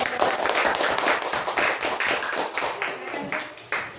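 A classroom of students claps together, giving a dense patter of hand claps for a group that has just finished presenting. Some voices mix in under the clapping.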